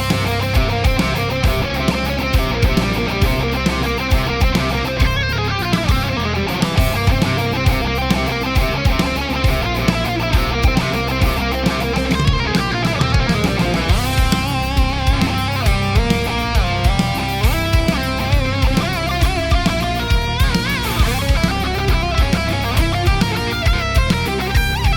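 An electric guitar solo from a single at its recorded tempo plays loud and continuous over a full band backing with drums and bass for the whole stretch.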